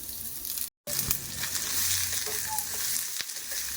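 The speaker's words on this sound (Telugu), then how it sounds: "ఆయిల్ తక్కువగా వేసి ఉల్లిపాయలు అయితే వేయించండి" Onions frying in a small amount of oil for a chicken curry, a steady close crackling sizzle with a brief drop to silence near the start and no talk.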